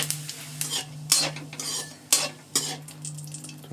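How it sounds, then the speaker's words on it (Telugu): Cloves and caraway seeds stirred together in a hot frying pan, with scraping spoon strokes and light clinks against the metal over a steady low sizzle, close and moderately loud, no voices. "ఒక 4 లవంగీలు, కొద్దిగా సాజీరా. ఒకసారి అన్నీ కలుపుకుందాం."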